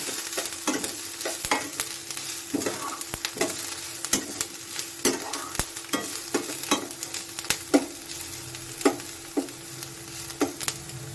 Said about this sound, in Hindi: ये प्याज को हमें ऐसे चलाते रहना है वरना वो एक तरफ से जल जाएंगे और इसे फ्राई करना है।